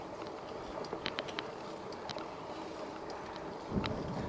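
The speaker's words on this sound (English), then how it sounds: "There's strong wind gusts," Strong outdoor wind gusts during a high wind advisory roar steadily across the microphone, with faint scattered clicks and a slight surge near the end.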